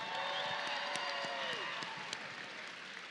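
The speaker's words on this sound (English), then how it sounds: "Give them a loud round of applause." Audience at a Black Tie and Boxing charity event applauds the fighters after three rounds, a steady wash of clapping heard at moderate distance with a few sharper individual claps, while a voice carries over the hall.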